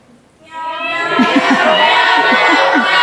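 A crowd of voices mimics cat meows all at once, a dense overlapping chorus of rising mewing calls, loud and close.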